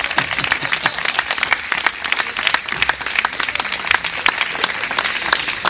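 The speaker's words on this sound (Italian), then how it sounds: "Fate un applauso a Marco Castiglioni" An audience applauds for a performer at an outdoor summer evening show on Lake Garda, with crisp, dense clapping that holds steady and close for several seconds.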